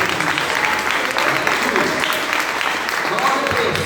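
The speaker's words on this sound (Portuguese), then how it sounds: "Uma salva de palmas bem forte." Dense, steady clapping from a church congregation during an evening worship service, filling the room at close range with a voice audible over it throughout.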